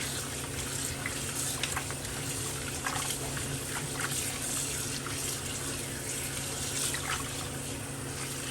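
Running water from a kitchen faucet pours steadily into a sink while food is rinsed, a continuous close splashing hiss with small irregular spatters and no talking.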